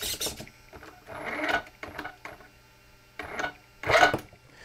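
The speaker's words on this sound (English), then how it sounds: "So you can hear at low speeds, I'm barely pressing the throttle." Small electric motor of an RC 4x4 truck whirs in short bursts at low throttle, close and fairly quiet, several separate surges with quiet pauses between them.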